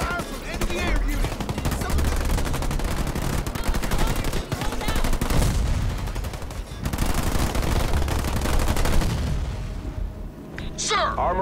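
Sustained rapid gunfire from an enemy air unit in the real-time strategy game Halo Wars 2, loud and continuous bursts with explosions layered over game voice lines, tapering off near the end.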